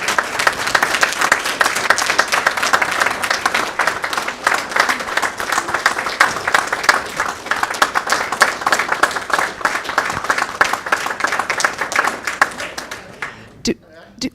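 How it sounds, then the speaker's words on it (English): Steady applause from a crowd at a board meeting fills the room, dense clapping continuing for many seconds before tapering to a few last claps. "So we do a big round of applause"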